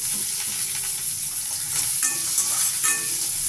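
Garlic cloves sautéing in a pan for a pirandai thuvaiyal, giving a steady close sizzle throughout with a few brief tonal clinks, most likely a spoon scraping against the pan.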